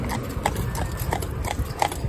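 Hooves of an Irish Draught mare clip-clop steadily in an even rhythm while she pulls a cart in single harness through town, close and fairly loud, with no talking.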